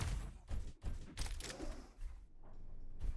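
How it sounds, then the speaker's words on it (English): Void cannon fire in the arena shooter Diabotical, heard as several sharp, punchy blasts in quick succession, close and loud, with short gaps between them. "Oh, the void cannon."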